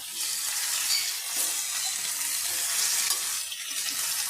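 Bottle gourd and spinach stalks with potato fry in a pan, giving off a steady, even sizzle with faint stirring and bubbling underneath.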